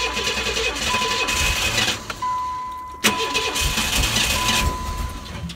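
A car that died right after backing out of a parking space cranks repeatedly without catching. The starter whirrs in several loud bursts separated by brief pauses.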